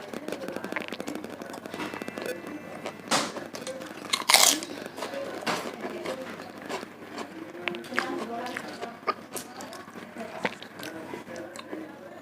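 Gado-gado eaten with kerupuk crackers, loud close crunches and bites mixed with chewing, recurring irregularly while someone talks over much of it.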